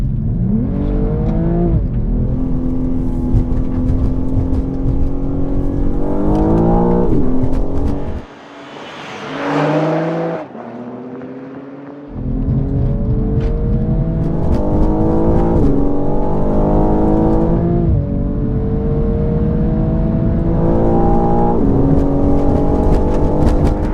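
A tuned 450 hp BMW M240i xDrive and a stock 503 hp BMW M3 Competition launch from a rolling start in a roll race. Loud engines climb through the revs with gear-change pauses, drop briefly near the middle, then build again.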